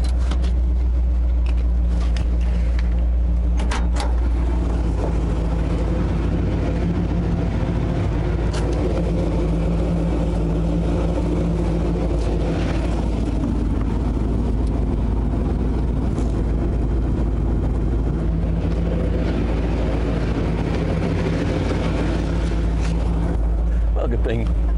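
A loaded ramp truck with a 460 engine cruises down a road with a deep, steady rumble and road noise heard from inside the cab, and someone talks throughout.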